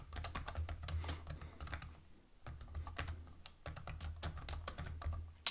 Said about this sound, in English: I'll start off just by typing in sociology.